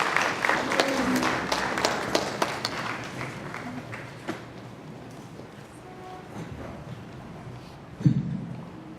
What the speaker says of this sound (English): please give a big round of applause for Sarah Verigate